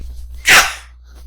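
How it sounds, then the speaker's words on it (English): A single sharp sneeze from a man during a physics lecture, a sudden burst close to the microphone amid quiet room hum. "I've got to sneeze"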